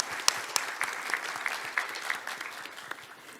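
An audience at an academic Korean studies forum claps for the panel of speakers, a moderate patter of individual claps that stays fairly even and gradually thins out.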